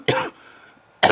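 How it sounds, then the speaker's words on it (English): Two short, harsh coughs close to the microphone, separated by a brief quiet pause. "I had a little cough here"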